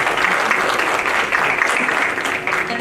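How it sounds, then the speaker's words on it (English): Audience applause at a Bharatanatyam arangetram dance recital, a sustained, even clatter of many hands clapping in a hall for a few seconds with no voices standing out. "so I just want to applaud all of you again"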